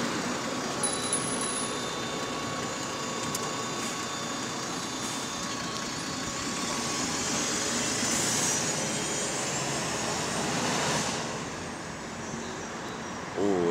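An SLN bus on route 25 pulls away hard in first gear, its engine rising in a loud, steady roar that builds and holds for several seconds before easing, with no talk over it.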